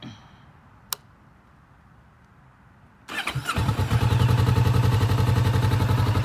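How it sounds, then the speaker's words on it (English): A 2016 Kawasaki Vulcan S fires up after a few quiet seconds and a single click, its twin-cylinder engine catching with a short crank and settling into a loud, steady, throbbing idle rumble close by. "So right now I'm gonna turn it on for you guys."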